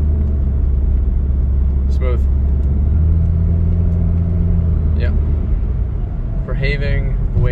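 Car with a high-mileage transmission driving along, a loud, close, steady low engine and road rumble with gear changes blending in smoothly, while people talk over it at moments.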